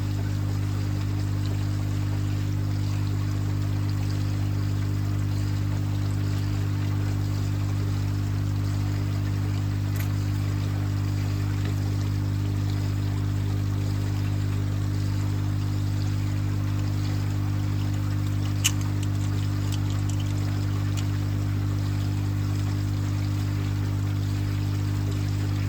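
Water poured into test tubes to rinse and fill them, a soft continuous trickle under a steady low mechanical hum, with a couple of faint clinks of glass.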